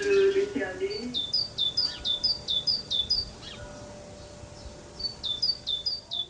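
Sparrows nesting in roof tiles chirp in quick repeated bursts, fairly close and clear, with a brief voice and low outdoor background near the start.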